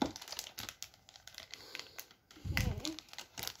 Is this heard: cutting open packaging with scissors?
yes